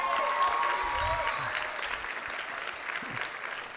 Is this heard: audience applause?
yes